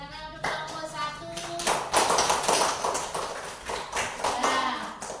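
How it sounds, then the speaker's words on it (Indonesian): Classroom applause for a student group, a burst of scattered clapping that builds and continues steadily, mixed with some chatter from the room. "tepuk tangan untuk kelompok 1"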